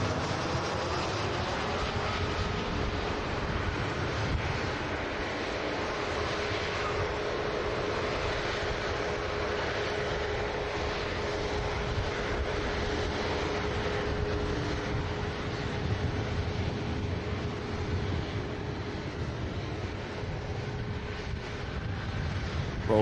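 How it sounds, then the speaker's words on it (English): An EasyJet Airbus A320 with sharklet wingtips rolls out at Manchester Airport in blustery wind, giving a steady, continuous roar of jet engine noise mixed with wind buffeting against the microphone throughout. "Rolling out the EasyJet's A320, the Sharklets."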